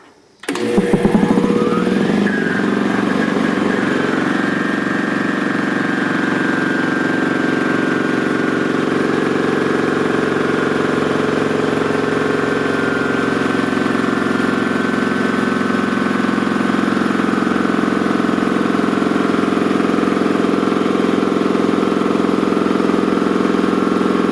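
An Ingersoll Rand T30 2475N7.5 air compressor starts up abruptly and then runs steadily for over twenty seconds, giving a loud, constant mechanical drone with a sustained whine and hum, heard alone.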